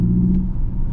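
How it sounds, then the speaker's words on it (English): A Hyundai Ioniq 5 N electric car's simulated engine sound lugging in a high gear such as seventh, a steady, loud, low droning rumble without speech. "if you go into a high gear, you can lug the engine."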